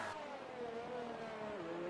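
Honda-powered race cars in a racing video game scream through the opening turns, one engine note sliding downward in pitch over a brief, fairly faint passage, with no voices over it.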